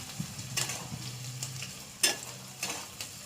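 Chopped onion and green chili frying in hot mustard oil, with a soft continuous sizzle broken by several scraping stirs of a spatula in the pan, fairly quiet and close.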